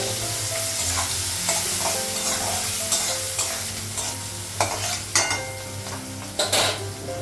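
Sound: onions being stirred and fried in oil

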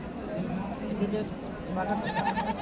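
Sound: goat bleating at livestock market

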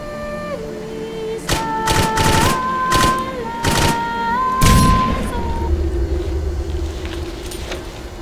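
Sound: gunfire from the video game Clive Barker's Jericho

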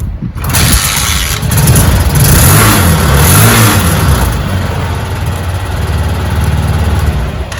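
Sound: 200cc three-wheeler engine being kick-started and running

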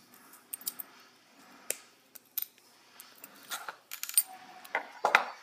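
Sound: trimming off excess wire while making a coho lure

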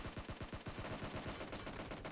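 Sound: gunfire in the video game PUBG Mobile

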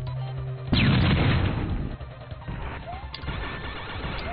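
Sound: explosion in a video game

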